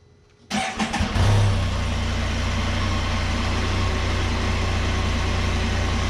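A Can-Am Spyder engine cranks and catches, then settles into a loud, steady close-up run with a low, even drone and no talking over it.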